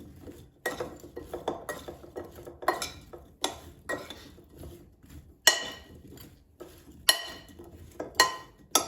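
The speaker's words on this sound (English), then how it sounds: "now let's toss so they're seasoned more evenly" Seasoned potatoes are tossed in a bowl with a utensil, giving repeated clinking and scraping strikes at an uneven rhythm, close and fairly quiet, with no talking.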